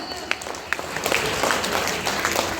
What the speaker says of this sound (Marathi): टाळ्या वाजवायचा, जोरदार टाळ्या